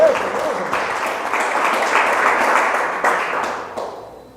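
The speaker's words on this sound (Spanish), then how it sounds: "Denle un aplauso al Señor, hermano" A church congregation applauds during a Spanish-language sermon, giving loud, sustained clapping from many hands that swells in the middle and fades slightly at the end.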